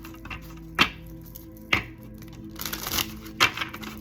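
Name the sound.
shuffling a deck of oracle cards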